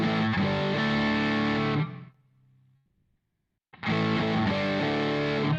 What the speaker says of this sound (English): where this distortion knob is on about half, normally that would be way down here to get the same sort of sound